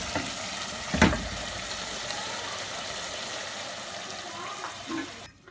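Beef keema masala frying in oil gives a steady, close sizzle throughout. A single utensil knock comes near the start, and the sizzle drops away abruptly at the end.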